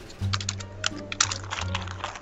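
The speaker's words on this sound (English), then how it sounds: "Alright, let me type it." Rapid typing on a computer keyboard during a Garry's Mod scary map session, a quick run of light clicky keystrokes over a low steady hum, close and fairly quiet.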